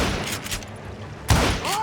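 Gunfire from the Western shooter game Call of Juarez Gunslinger: a quick volley of shots, then one louder, booming shot partway through, all close and punchy.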